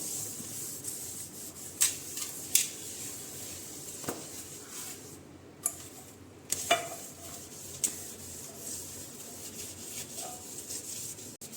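A kitchen sink being scrubbed with a homemade vinegar cleaner makes steady close rubbing and scouring, with a few sharp knocks and taps and no talking.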